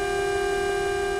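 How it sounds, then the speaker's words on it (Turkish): Truck horn in Euro Truck Simulator 2, a steady, loud, tonal blare held without a break, sounding alone. "Bak arkadaşlar, kornam çok güzel."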